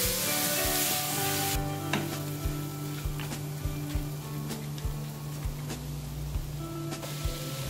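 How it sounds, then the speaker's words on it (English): Mutton pieces frying with masala in a pan, a steady loud sizzle with rhythmic scrapes and knocks of a spoon stirring against the pan about once a second, and no talking. "Stir the mutton pieces so that it combines well with the rest of the ingredients."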